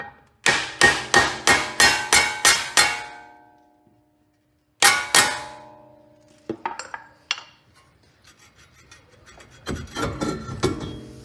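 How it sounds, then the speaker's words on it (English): A hammer strikes a block of wood against a seized metal brake rotor in a rapid series of ringing clangs, pauses, hits twice more, then lighter clinks and taps follow. "I've got a hammer and a block of wood to knock it loose"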